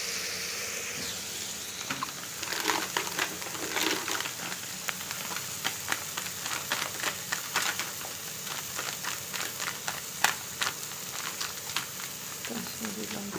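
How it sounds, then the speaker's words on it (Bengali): Whole fish frying in oil in a home kitchen, a steady broadband sizzle with scattered crackles and spatters throughout, fairly close and moderately loud, with light handling noise and no talking. "মাছগুলো ভেজে নিচ্ছি সবগুলো"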